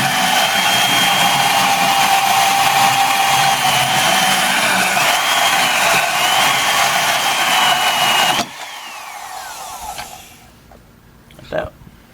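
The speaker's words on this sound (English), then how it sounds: "So I'm going to cheat with the portaband." A portaband saw cuts through metal during a three-point mower repair, a loud steady whining grind that runs for about eight seconds, then cuts off to quieter handling noises and a brief clunk.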